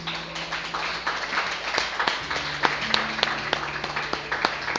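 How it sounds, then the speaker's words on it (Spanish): A church congregation claps steadily and continuously during a worship service, dense overlapping applause filling the whole stretch at a moderate level. "Den un aplauso al Señor."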